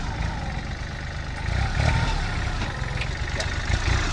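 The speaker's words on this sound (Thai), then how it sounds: "สตาร์ทไปเลยครับ ติดง่ายครับ เครื่องยนต์34แรงนะครับ" A used Kubota tractor with a 34 hp engine starts and runs, a steady low mechanical chug that grows slightly louder partway through, heard up close under occasional light knocks and background noise.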